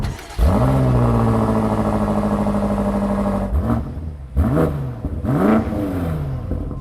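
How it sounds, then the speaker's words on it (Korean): A BMW M8 Competition Gran Coupe starts up with a loud exhaust flare that settles into a rumbling idle, followed by three sharp throttle blips, each rising and falling, close and alone. "이 주변에 있는 거의 모든 사람들이 인지할 수 있는 정도의 배기음을 들으실 수 있습니다"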